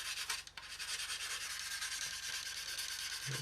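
A sanding stick rubbed back and forth on a part from a Tamiya 1/48 Mosquito plastic model kit, a close, quiet, fast scratchy rasping in even strokes throughout, with no talking.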